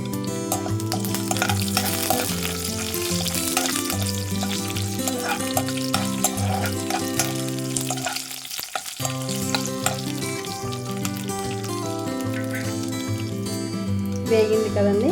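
Green chillies fry with a steady, dense sizzle in a pan while being stirred, close and continuous, with a short dip partway through and faint scraping underneath.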